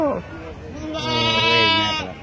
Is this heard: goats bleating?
yes